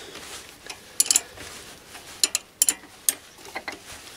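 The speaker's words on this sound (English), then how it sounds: "So next I put the mandrel in the back of the spindle and tighten the nut up on the back to lock it in there." Clicking ratchet-like ticks from a nut being tightened to lock a mandrel into the back of a Chinese mini lathe spindle, a few sharp metallic clicks in short bursts, close and fairly quiet, no talking.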